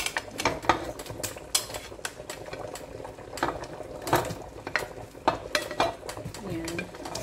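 Chunks of potato dropped into a simmering pot of Irish stew with softened carrots, giving a run of sharp knocks and clatters from utensils against the pot over a bubbling background, with brief sounds of someone moving about nearby.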